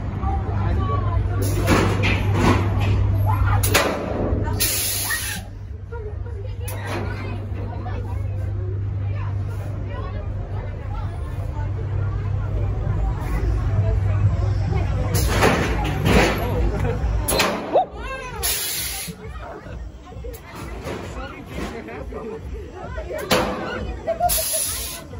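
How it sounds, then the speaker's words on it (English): Sharp bursts from air cannons punctuate a noisy crowd queuing at a haunted house attraction, with a steady low hum and chatter underneath; several loud hisses come in quick succession near the end. "there's like slamming air cannons, all sorts of different things"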